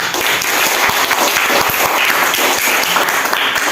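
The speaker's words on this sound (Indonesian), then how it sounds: "Ya, tepuk tangan." Schoolchildren in an elementary school classroom burst into loud, close applause, a thick, continuous wash of clapping hands with no talk over it.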